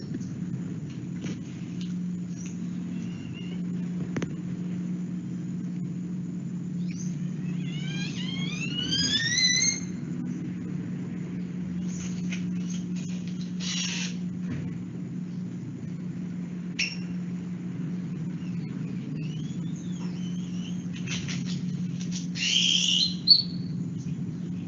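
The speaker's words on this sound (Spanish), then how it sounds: "Y así es posible tener otros cantos de aves." Recorded bird songs played back, a few rising chirps and brief trills over a steady low hum throughout, fairly faint against the background.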